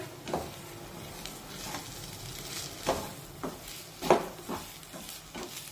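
Cardamom powder being stirred into bhagar shira in a pan, soft sizzling under a few scraping strokes of the spoon, with a handful of sharper clinks spaced irregularly across the moment.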